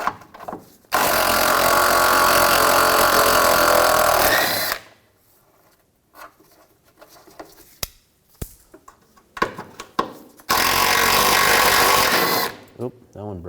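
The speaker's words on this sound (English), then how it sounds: "Use a 10mm socket." A power tool with a 10mm socket runs nuts and bolts off the fuel tank shield of a 2007-2016 GMC Acadia in two loud sustained whirring bursts, with clanks and brief handling noises between them.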